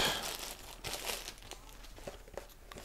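GoPro Hero 9 battery packaging being torn open by hand, a close crinkling and ripping of plastic and card for a few seconds, the rustle tapering off at the end.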